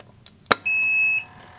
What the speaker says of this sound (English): You've got the various alarms that are going through their wake-up stage.